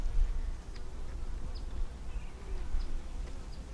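Honey bees hum around an open beehive, a low steady drone with faint higher buzzes of single bees passing close, continuous and moderately quiet with no talk.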